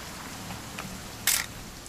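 A single crisp mechanical shutter click from an old camera in the What Remains of Edith Finch video game, sharp and short, over faint background ambience.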